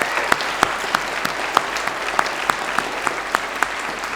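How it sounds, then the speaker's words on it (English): Loud, sustained applause fills a graduation ceremony hall, a dense wash of clapping from a large audience with a few distinct claps standing out at a fairly regular pulse. "If you could give them a very loud round of applause as well."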